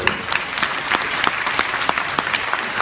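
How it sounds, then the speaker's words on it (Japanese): A crowd at a Universal Studios Japan show claps for itself, a steady dense patter of many hands close by and continuous for the whole stretch, with no talk over it. "オーケー、自分自身で拍手。"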